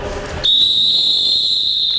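A single sharp, steady referee whistle blast at basketball training, loud and close, sounds for over a second after a brief moment of background noise.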